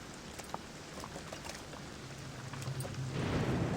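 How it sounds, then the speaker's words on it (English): Rain patters steadily on a rooftop in the stealth video game Thief, a soft continuous hiss with a low rumble that swells louder near the end. "The rain effects on this roof here are kind of nice."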